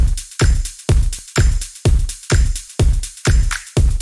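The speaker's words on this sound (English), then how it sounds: "the shaker, and the tambourine, which sound like this." A slap house break pounds with a loud kick on every beat, shaker and tambourine rattling between the hits in a driving, energetic loop.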